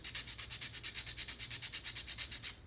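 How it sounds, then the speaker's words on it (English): Rhythmic back-and-forth scraping on a small plastic part from a 1/350 scale Hobby Boss Danton ship model kit, close and steady with about twenty evenly spaced strokes and no voices. "we're still gonna scrape it"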